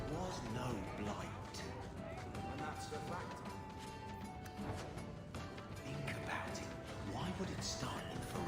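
Dogs bark in a rural backwater village in the video game Dragon Age 2, mixed into a dense, steady wash of game music and ambience that runs throughout.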